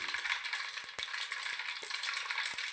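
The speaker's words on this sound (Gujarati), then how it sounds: "જો આપણે રહી ફૂટી છે" Mustard seeds pop and crackle in hot oil for a Kathiyawadi undhiyu tempering, a steady sizzle broken by scattered sharp pops, close up and fairly quiet, with no voices.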